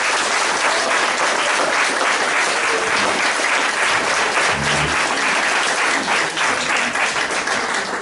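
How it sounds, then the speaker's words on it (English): Sustained, dense applause from a large audience, steady and loud throughout with no break. "let's give a big round of applause to Joseph."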